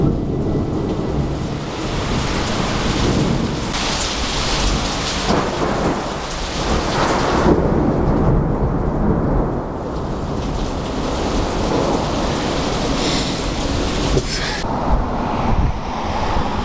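Heavy rain and rumbling thunder of a thunderstorm near Banff, a dense steady roar of downpour with low rolling thunder swelling and fading throughout, loud and continuous with no voices.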